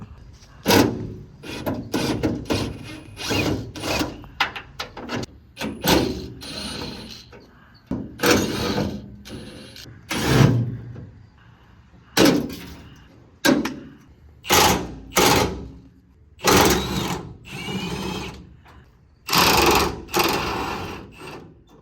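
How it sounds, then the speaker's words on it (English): A power drill bores into a metal bar in repeated bursts, starting and stopping with clicks and mechanical rattling, close and fairly loud throughout. "we're gonna have to drill straight into that top metal bar"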